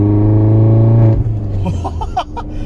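A Mini Cooper S engine holds a loud, steady drone, then drops off, and voices talk over the fading idle.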